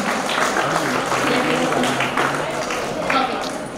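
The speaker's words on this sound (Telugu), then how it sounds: "వాళ్ళ అమ్మగారు కూడా ఒకసారి గట్టిగా చప్పట్లు కొట్టవలసి కోరుతున్నాను" Audience applause at a Telugu women's TV show, with a dense, steady patter of many hands clapping throughout at fairly high volume and no break.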